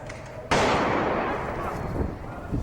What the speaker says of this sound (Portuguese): Tiro a queima-roupa novamente.